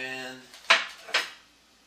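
Cutlery striking a plate at a steak breakfast, two distinct sharp clinks about half a second apart, following a fading tonal hum.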